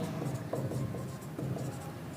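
Chalk or marker writing on a board during a Class 10 maths lesson on real numbers, a steady run of soft scratchy strokes with short pauses, fairly close and alone with no talking.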